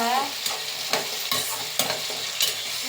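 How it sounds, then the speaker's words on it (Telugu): Tomatoes fry with onions and green chillies in a pan, a steady sizzle punctuated by four or five rhythmic stirring scrapes of a spoon, close with no voices. "పచ్చిమిరకాయలు ఉల్లిపాయలు వేగిపోయిన తర్వాత టమాటాలు వేసుకొని తిప్పేసుకోవాలి."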